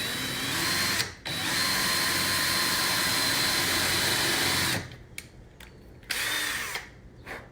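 A power drill pre-drilling holes for a circular shelf whines at high speed in a long continuous run, stops, then starts again in several short bursts, loud and close.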